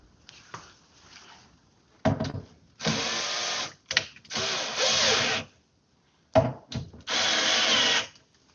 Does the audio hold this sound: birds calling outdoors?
no